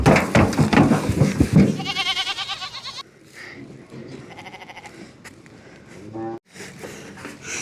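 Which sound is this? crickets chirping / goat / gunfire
goat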